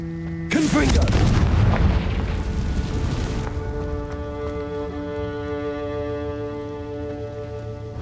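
A Confringo fire spell bursts in Hogwarts Legacy with a loud, broad boom, followed by a lingering rumble and a sustained tonal hum of game music or ambience fading over several seconds.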